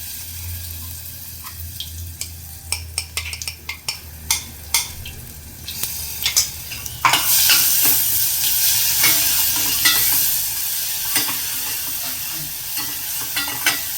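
Spice paste with ground green chilli and coriander powder for batata vada being stirred in a pan: scraping spoon strokes in uneven bursts, then a louder steady sizzle of frying takes over.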